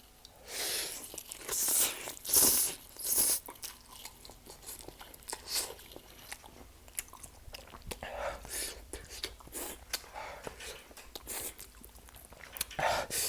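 Mama Korean spicy chicken instant noodles eaten close up, with wet slurps, bites and chewing arriving in irregular bursts and some faint whispery breath between them.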